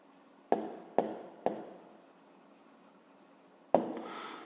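Pen strokes on paper while a math answer is written out: four sharp scratchy touches, three in quick succession and a fourth after a pause, each trailing off into faint rubbing, close and alone.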